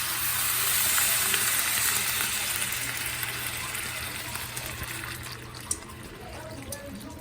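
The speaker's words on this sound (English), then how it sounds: "So now we're gonna add our liquid. The liquid I'm using today is just vegetable broth." Vegetable broth streams into a pot of oxtails, a continuous close pouring and sizzling wash that gradually eases off, with no talking over it.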